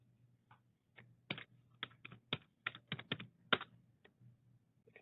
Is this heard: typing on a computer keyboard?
yes